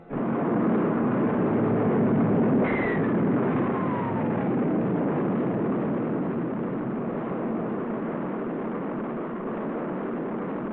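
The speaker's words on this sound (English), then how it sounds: "The rocket performs perfectly as it lifts the funnel-shaped capsule gracefully along" A Mercury rocket roars upward on a 1961 launch carrying Alan Shepard's capsule, a continuous, heavy, rumbling thunder on a muffled, narrow-band old recording, holding steady and slowly fading over the whole stretch.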